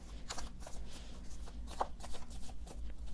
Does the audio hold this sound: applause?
no